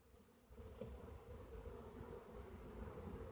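Honeybees buzz around an open hive in a soft, steady, faint hum that fills the air after a brief quiet start, with no one speaking.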